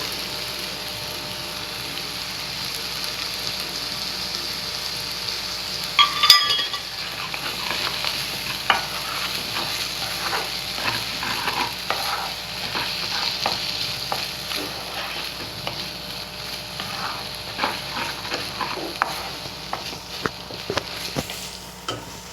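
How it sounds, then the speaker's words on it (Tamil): Rice being stirred in a frying pan with a steady sizzle and scraping, irregular stirring strokes running throughout, close and moderately loud with no talking. "சாப்பாடு போட்டு கிளறியே எடுத்துக்கலாம்"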